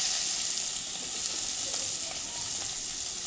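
Chopped onion frying in hot oil with cumin seeds and spices for a Bengali cabbage and fish-head dish, giving a steady, close, continuous sizzle with no talking.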